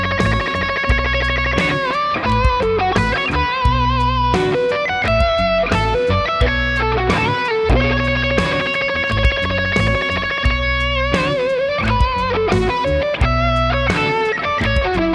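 An electric guitar fitted with Seymour Duncan Slash pickups plays a heavily driven lead tone, a loud, sustained, distorted run of notes and chords continuing for about fifteen seconds without any voice.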